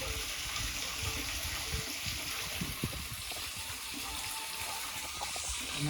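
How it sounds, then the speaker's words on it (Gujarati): Water runs steadily from a spring-fed stream inside a temple, a continuous close hiss and splash of flowing water with no talking. "અંદર જો પાણીની જણ ચાલુ છે"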